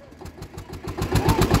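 An Eicher tractor engine putters in a rapid, regular chug with rising intensity, close and fairly loud, while the tractor works near a cement machine.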